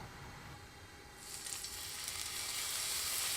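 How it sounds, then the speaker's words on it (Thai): Beef steak sizzles in hot olive oil in a grill pan, starting as a faint hiss and rising after a second into a loud, steady frying crackle. "ใส่น้ำมันมะกอกลงไป ตั้งให้ร้อน แล้วก็ใส่เนื้อตั้งไปเลยครับ"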